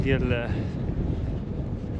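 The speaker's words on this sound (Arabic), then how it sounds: "وهنا الريح عاوتاني يعيد نفسه" Strong wind buffets a cyclist bikepacking in Patagonia, a continuous low roar and rumble on the microphone that persists throughout after a brief voice at the start.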